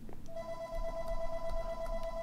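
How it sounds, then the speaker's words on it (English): A telephone rings nearby with a steady electronic tone over a low background hum, sounding for a couple of seconds. "apologize for the phone ringing"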